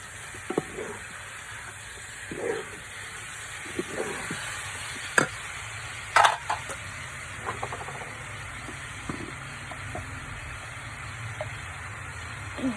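Tomatoes go into a frying pan for chicken biryani and sizzle softly over a low hiss. Occasional scrapes and clinks of stirring break in, including a sharper knock near the middle, and no voice is heard.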